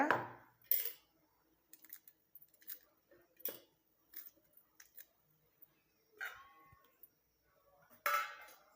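Leaves being snipped into small pieces with scissors for a homemade herbal hair dye, a series of crisp, separated cuts and snips at close range with short pauses between them and no voices.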